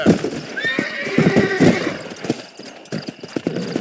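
A horse in the video game Red Dead Redemption gives a loud rising whinny while its hooves clop in a quick uneven rhythm, the hoofbeats continuing close by after the neigh fades.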